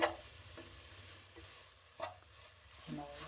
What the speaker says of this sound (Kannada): ಕ್ಯಾರೆಟು ಮತ್ತು ಬೀಟ್ರೂಟ್ ಎಲ್ಲ ಹಾಲು ಎಲ್ಲ ಮಿಕ್ಸ್ ಆಗಿ ಫ್ರೈ ಆಗಿದೆ